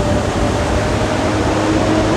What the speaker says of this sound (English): this truck's just coming in now